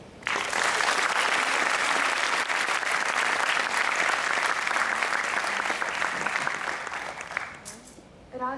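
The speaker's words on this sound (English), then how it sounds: "I would like to start with a round of applause for all teachers, parents, and family" Loud, sustained applause from a class of 2019 graduation audience honoring teachers, parents and family, dense crowd clapping for several seconds that fades out near the end, with a few voices in the crowd.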